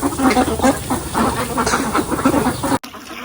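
Domestic ducks quack loudly and continuously in a dense, overlapping chorus on a duck farm, close to the listener, cutting off abruptly near the end.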